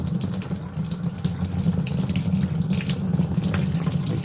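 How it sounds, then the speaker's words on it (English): Tap water runs steadily into a sink while a bottle cleaner is rinsed out during winemaking cleanup, producing a continuous close splashing gush without pause. "and then you rinse it out."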